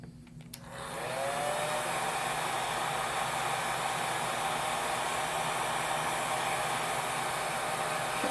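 A hair dryer clicks on and runs at a steady, loud, even whoosh for several seconds while drying paint on a home-art craft board.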